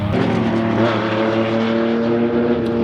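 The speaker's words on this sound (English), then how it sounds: "So those are the cars taking up the track while we wait" Race cars lap a fairly new race track on a track day, a loud, sustained engine drone with a steady pitch that rises slightly as one car passes near.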